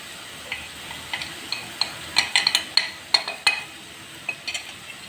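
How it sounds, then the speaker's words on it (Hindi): Black pepper, turmeric, salt and a quartered onion are stirred together for chicken soup, with a run of light, irregular clinks and scrapes of a spoon against a pot, close and without talk. "अच्छे से इसको मिक्स कर लेना है।"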